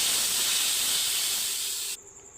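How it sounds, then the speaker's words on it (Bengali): A masala of ginger, cumin, onion, chilli, turmeric and salt frying in a pan gives a loud, steady, close hiss that cuts off sharply near the end, leaving a fainter background. "মশলাটাকে ভালো করে কষিয়ে নেব"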